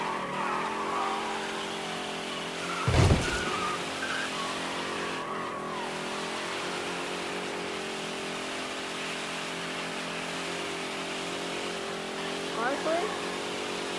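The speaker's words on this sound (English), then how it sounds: "But I want to see if we can actually like properly drift it." Car tyres skidding and sliding in Mafia III, a steady engine drone with harmonic whine throughout, a sharp loud screech burst early and a shorter squeal near the end, with a voice talking over it.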